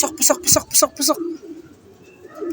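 Racing pigeon arriving home at a loft after a Pio Duran, Albay to Novaliches race: a quick run of close, rhythmic pigeon coos, followed by a quieter stretch of faint background sound.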